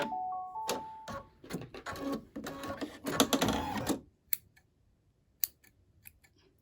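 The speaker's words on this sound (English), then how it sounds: "Come on, cut that thread." Scissors snip sewing thread beside an embroidery machine stitching a turkey mug rug, with a busy run of clicking and mechanical chatter for about four seconds, then a few sharp isolated snips and clicks in near quiet.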